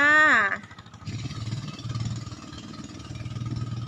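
A walking tractor engine runs nearby with a steady, pulsing low rumble that continues for several seconds after a brief voice at the start.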